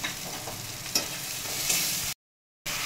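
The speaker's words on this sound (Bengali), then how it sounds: "এবারে মশলাটা ভালো করে কষিয়ে নেব।" Spice paste with Kashmiri red chili powder sizzles in a pan while being stirred, a steady close frying hiss with a brief scrape, then a short gap of silence.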